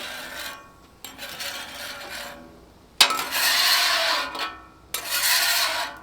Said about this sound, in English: Get all that fond off of there.